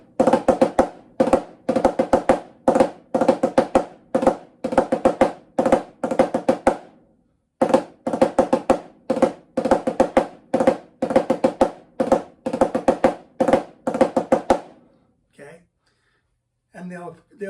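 Double ratamacue drum rudiment ending on an eighth note: crisp, close stick strokes in tight repeating groups, played steadily for about fifteen seconds before trailing off into a few faint sounds.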